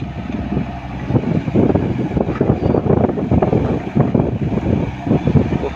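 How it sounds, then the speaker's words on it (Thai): Strong wind buffets the microphone outdoors beside a dump truck, a loud continuous roaring rumble with gusty surges throughout. "ลมแรงมากครับ"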